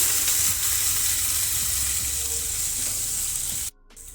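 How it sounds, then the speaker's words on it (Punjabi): Ginger and garlic frying with cumin in hot oil, a steady dense sizzle held close and loud for several seconds before cutting off abruptly near the end. "ਜੀਰੇ ਦੇ ਨਾਲ 2 ਮਿੰਟ ਵਾਸਤੇ ਆਪਾਂ ਅਦਰਕ ਲਸਣ ਨੂੰ ਭੁੰਨ ਕੇ ਤਿਆਰ ਕਰਾਂਗੇ"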